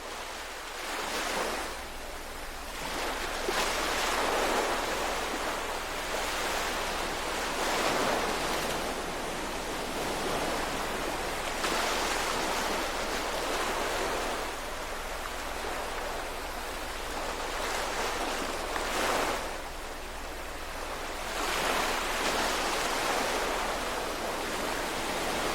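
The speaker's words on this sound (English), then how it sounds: "Continue to bring your thoughts back to the waves crashing" Ocean waves crash and recede in a slow, repeating rhythm, each surge swelling into a broad wash of surf before fading, loud and continuous with no voices over it.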